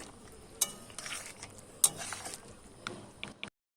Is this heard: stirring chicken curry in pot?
yes